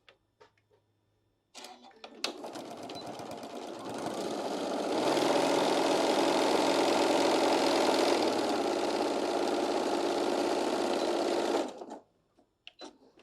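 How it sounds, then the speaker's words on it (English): A sewing machine stitches a quarter-inch seam along a straight fabric edge, starting with a few short clicks, then running as one close, continuous mechanical whir for about ten seconds before stopping. "I'm going to just sew 1/4 inch all the way across this straight edge right here"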